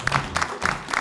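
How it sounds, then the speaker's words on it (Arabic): Studio audience applauding during a televised game show, a short burst of clapping at moderate level with no talk over it. "مين قلت هكا يزيدوا يصفقوا، ما فهمتش علاش"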